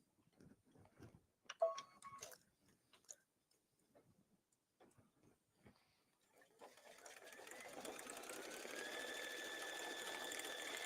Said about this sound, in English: Let's just click OK and embroider.